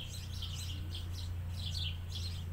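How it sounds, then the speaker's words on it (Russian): House sparrows chirping near human dwellings, a run of bright, repeated chirps in quick bursts over a steady low hum, moderately distant and fairly faint, with no one talking. "Домовый воробей."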